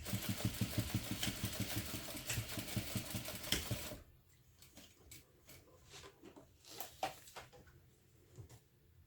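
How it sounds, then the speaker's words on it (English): A sewing machine stitches across and back over a backpack strap. It runs in a fast, steady mechanical rhythm for about four seconds, then stops, leaving quieter scattered clicks and handling noises. "you'll want to stitch across and then back a couple times to really reinforce it well"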